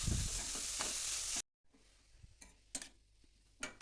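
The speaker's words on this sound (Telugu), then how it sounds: "ఈ రాడిష్ పోపు అంతా కలిసేటట్టు బాగా కలుపుకోవాలి" Grated radish is stirred into a turmeric tempering in a pan. An oily sizzle with a stirring rasp comes first, then a sudden cut gives way to a quieter simmer broken by sharp spoon scrapes and clicks.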